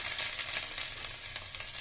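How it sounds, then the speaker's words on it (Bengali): Chopped garlic frying in hot mustard oil in a wok, a continuous bright hiss and crackle that stays steady and close for a brief moment. "কড়াইয়ে তেল দিয়ে দিয়েছি তেল গরম হয়ে গেছে রসুন কুচিটা দিয়ে দেবো"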